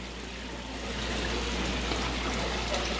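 Water flows steadily at an outdoor fountain, a constant close splashing rush with no speech, growing slightly louder after the first second.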